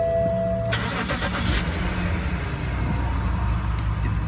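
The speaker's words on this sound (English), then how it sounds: "Let's see what this car sounds like when it starts up." A BMW 525i engine cranks and catches after a high tone cuts off, then settles into a steady, even idle that stays close and moderately loud.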